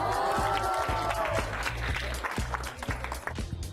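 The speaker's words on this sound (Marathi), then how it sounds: "तर जोरदार टाळ्या वाजवून शुभेच्छा" Applause from a crowd gathered at a Paithani prize game show, a sustained patter of many hands clapping at moderate loudness, with a voice heard briefly at the start.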